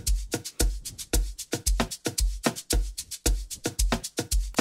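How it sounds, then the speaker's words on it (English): An Amapiano percussion loop built in FL Studio at 113 BPM, with a shaker and assorted percussion over steady booming kicks in a busy, tightly repeating groove. "you're gonna hear the shaker anyway, and I put some of these percussions."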